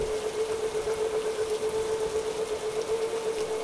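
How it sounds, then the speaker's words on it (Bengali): Steady rain falling during a night ride on a small electric rickshaw, a constant even hiss with a faint tonal hum running underneath, no voices. "কিছুক্ষণের মধ্যেই শুরু হলো বৃষ্টি।"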